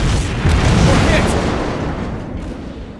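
A naval shell strikes an enemy ship in World of Warships Blitz, a loud booming impact with a rumbling tail that slowly fades.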